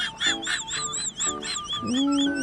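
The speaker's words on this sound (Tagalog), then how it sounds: "Ito naman yung mga pato sa Esperanza." Ducks quack in a quick series of nasal, honking calls, close and fairly loud, with a longer drawn-out call at the end.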